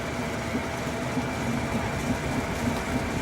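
A wood lathe spins a bowl blank with bark inclusions at about 450 RPM, giving a steady, loud low drone with a faint rhythmic pulse and no talking.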